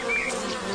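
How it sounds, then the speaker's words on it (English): A honeybee buzzes close by while feeding on sugary sap from a lime tree, a steady, unbroken drone that fills the short moment on its own. "This bee is searching for a sweet treat, and the sugary sap of the lime tree is just too good to miss."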